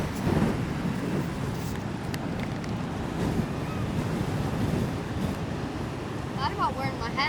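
Steady strong wind rushes over the microphone at a beach in Ocean City, Maryland, during Hurricane Erin, with surf rumbling underneath and faint bird-like chirps near the end.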